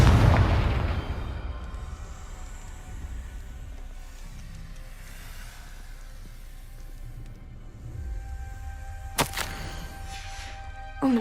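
A Confringo blasting spell explodes in the video game Hogwarts Legacy, opening with a heavy close boom that settles into a long rumbling roar, with a sharp crackling burst near the end.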